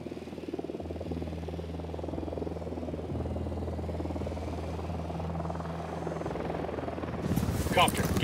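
Helicopter in the video game Ghost Recon Wildlands, a steady rotor thrum with a low pulsing drone throughout, joined near the end by a burst of louder noise.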